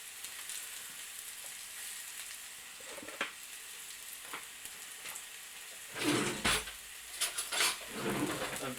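Mackerel and mushrooms fry in a pan with a soft, continuous sizzle and a few louder crackling bursts and utensil clatters toward the end, with no talking.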